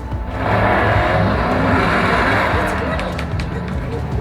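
Cars in a computer racing video game rev and crash through surround-sound speakers, a dense burst of engine roar with scattered impacts, loud at first and easing slightly toward the end.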